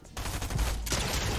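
Gunfire in the Fortnite video game during a solo cash cup match, a dense burst of shots starting abruptly and continuing loud and steady to the end, with no talking.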